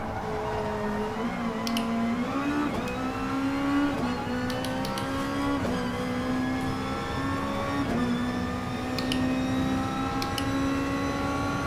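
A race car in Gran Turismo Sport at Fuji Speedway, its engine note climbing steadily through the gears with brief dips at shifts, a loud, continuous whine held close throughout.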